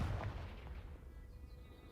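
A deep explosive boom from the Confringo fire spell in the video game Hogwarts Legacy, a single low blast fading into a rumbling tail.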